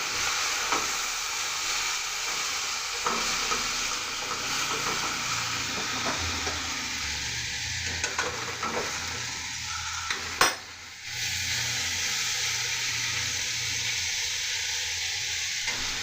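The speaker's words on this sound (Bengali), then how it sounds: "এটাকে আমি আর একটুখানি 5 মিনিট মতন নাড়িয়ে চাড়িয়ে এবার আমি বন্ধ করে দেব।" Chicken with fenugreek (methi) for chicken rolls sizzles steadily in a pan while a utensil stirs and scrapes it, with occasional metallic clinks and a brief pause near the end; no one speaks.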